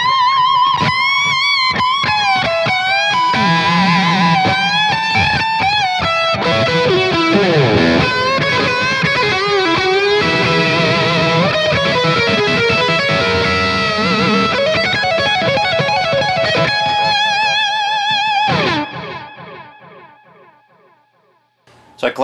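Electric guitar lead through a programmable switcher rig, amp channel three with internal boost for a searing overdrive, with delay and reverb; a loud sustained solo of bends and fast runs that rings out and decays at the end.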